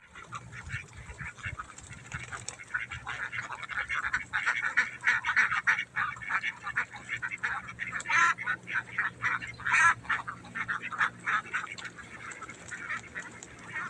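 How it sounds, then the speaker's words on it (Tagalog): A large flock of domestic ducks quacks and calls continuously, a dense overlapping chorus that stays fairly close and steady throughout, with occasional louder individual calls rising above the din and no talking. "Yun, papasok na sila. Busog na, mga itik."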